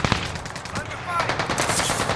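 Rapid machine gun fire rattles in a Call of Duty Warzone Rebirth Resurgence match, quick repeated bursts of shots over game noise, moderately loud across the short stretch.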